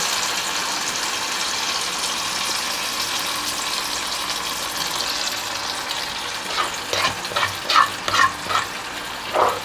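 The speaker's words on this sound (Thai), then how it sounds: "ผัดให้มันสุกเนาะค่ะพี่น้อง" A steady hiss of sizzling fills the pan as minced fish is stir-fried, then rhythmic scraping strokes of a spatula stir it toward the end.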